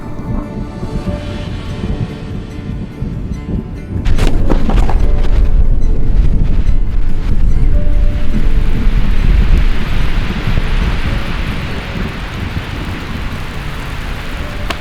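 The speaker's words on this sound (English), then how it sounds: "Now we're hearing rumbles of thunder coming." Low rolling thunder rumbles through steady heavy rain, swelling louder midway and easing off toward the end, with no voices.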